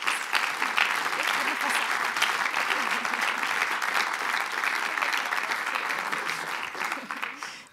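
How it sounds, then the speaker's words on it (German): Loud, sustained applause from a large conference audience, steady throughout and tapering slightly at the end. "Ich bitte um einen herzlichen Applaus."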